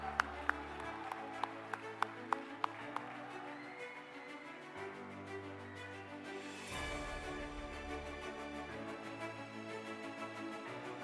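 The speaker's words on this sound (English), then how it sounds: "a round of applause for our multi-award winning Khalid Al-Ghazal" At a school graduation ceremony, an audience applauds a multi-award-winning student, with sharp individual claps early on, then fainter applause beneath loud ceremonial music.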